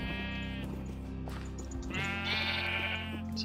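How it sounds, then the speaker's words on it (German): Sheep in the Minecraft video game bleat several times in a row, clear wavering cries over a steady low background hum. "Bitte jetzt erstmal die Schafe."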